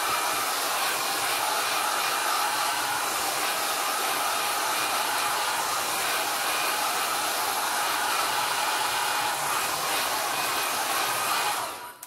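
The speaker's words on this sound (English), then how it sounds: "Just going to take the dryer over this for a moment." A hair dryer blows steadily and loudly over a mixed media painting for about twelve seconds, a constant broadband whoosh that cuts off abruptly at the end.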